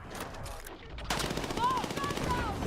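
Suppressed burst-fire gun in Battlefield 6, fitted with a sight and a 55-round magazine, fires a rapid, loud run of muffled shots that starts abruptly and continues steadily to the end.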